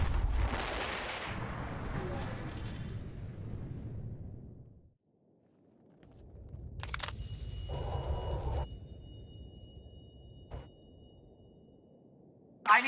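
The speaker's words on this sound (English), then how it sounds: "They've got cannon." Heavy cannon blasts in the video game Star Wars: The Old Republic boom and rumble, fade to near silence, then return with sharp high-pitched effects and another burst at the end.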